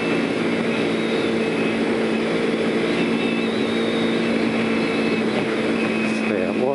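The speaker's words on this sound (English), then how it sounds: "Stay out wide, on the gas, turn the bike." A motorcycle rides on a public road, its engine droning steadily at close range under rushing wind, while a person talks over it throughout.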